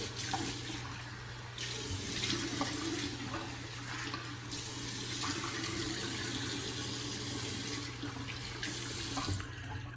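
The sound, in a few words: rinsing off under running tap water while shaving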